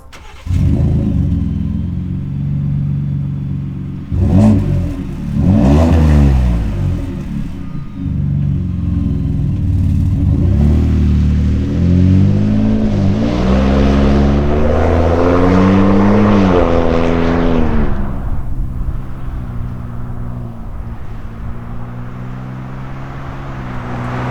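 A Ford F-150 EcoBoost pickup revs hard through a loud, throaty aftermarket exhaust, rising and falling in several pulls before settling into a steady rumbling idle.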